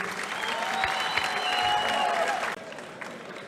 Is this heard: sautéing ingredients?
no